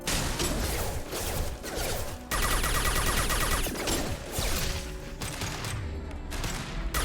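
Sustained gunfire from the video game Mass Effect 2, with dense automatic bursts and crashing impacts rattling almost nonstop through the whole stretch, loud and close.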